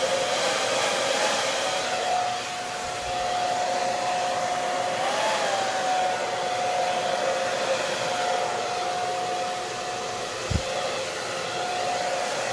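A hair dryer blowing air over a wet acrylic Dutch pour painting, a steady loud whooshing drone with a faint whine that holds throughout, no talking.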